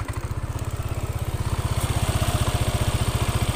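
A Yamaha NMAX scooter with a broken CVT slider piece idles with its headlight load switched off, its engine thrumming in rapid, even close-up pulses that swell slightly in loudness as it runs.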